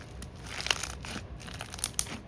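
Close, crisp crunching and crackling as a beaded, squishy material is squeezed, with a few sharper pops over a steady crinkly texture.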